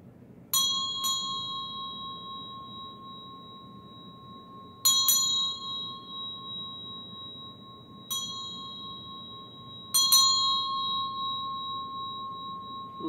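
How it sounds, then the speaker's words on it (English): A sonic healing bell rings four times with bright metallic strikes, each leaving a long, pure sustained tone that slowly fades in a quiet room, some strikes doubled in quick succession. "We also use what's called a sonic healing bell."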